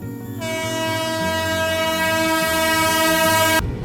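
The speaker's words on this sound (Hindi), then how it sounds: "ये देखिए रत्नाचल एक्सप्रेस भी ओवरटेक कर रही है हमको" A passing Ratnachal Express overtakes, its long steady horn blast sounding loud and close for about three seconds over the rumbling clatter of the moving train.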